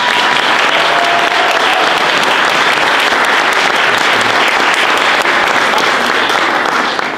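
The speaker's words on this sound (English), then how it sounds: "let's give them one more round of applause" Sustained applause from a large crowd at a fifth-grade graduation ceremony, dense steady clapping filling the whole stretch without a pause.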